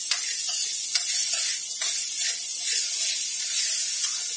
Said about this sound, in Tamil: இது ஒரு கிளறு கிளறிட்டு